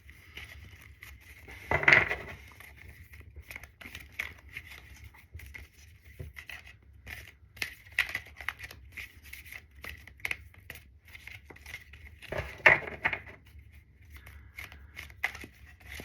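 Soft riffling and quick papery flutters of cards being shuffled, with a couple of louder bursts among quieter rustles, close and faint.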